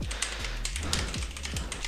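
Rapid typing on a HyperX Alloy FPS RGB mechanical keyboard, a steady run of close, crisp key clacks with scattered louder strikes and no voices.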